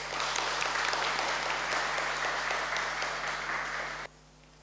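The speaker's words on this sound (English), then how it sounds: "Church, let's all welcome them with a round of applause." A church congregation claps steadily to welcome first-time visitors at a foundation day service, a dense, even wash of applause that holds for about four seconds and then cuts off sharply, leaving a low hum.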